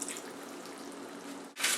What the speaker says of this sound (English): Once all your beef has begun to evenly brown, you need to add 1/4 cup of water to it.